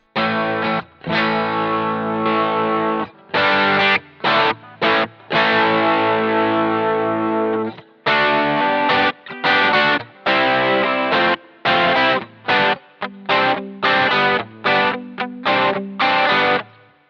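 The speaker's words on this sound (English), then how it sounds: "Let's change over to the match drive here and let's have a listen." An electric guitar played through the Boss GT-1's Match Drive overdrive gives a gritty, saturated tone in chopped chords and short bursts with brief gaps between, loud and close.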